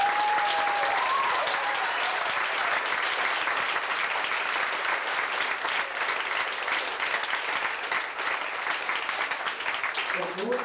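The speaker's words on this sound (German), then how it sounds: "das haben wir mal einen extra Applaus für euch" An audience at a 1987 school dance show at a gymnasium claps in sustained, dense applause that stays loud and even throughout, while a voice speaks briefly at the very start.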